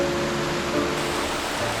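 Yongso Falls in Jujeongol Valley on Seoraksan gives off a steady, loud rushing roar of falling water with no break.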